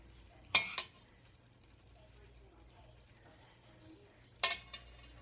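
A spoon scoops leftover rice onto a plate in two short, quiet clinks and scrapes about four seconds apart, with near silence between them.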